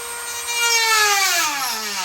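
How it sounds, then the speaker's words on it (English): A Dremel rotary tool grinds into the plastic bumper of a Toyota Tacoma, giving a steady high-pitched whine that sweeps slowly downward as the bit bites into the material, loud and close with no talking. "I think I'm going to have to start it with the Dremel just to get the line going."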